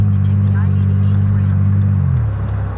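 A car with an engine prone to stalling is driven around a parking lot, its steady low engine drone loud and close from inside, pitch dropping slightly near the end.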